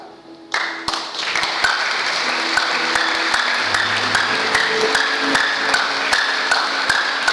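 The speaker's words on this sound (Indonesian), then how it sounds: "Coba saudara tepuk tangan yang terbaik untuk Tuhan" A church congregation bursts into loud, enthusiastic clapping during a Sunday morning service, starting abruptly and continuing as a dense, steady roar of hands with some sharp individual claps near the front.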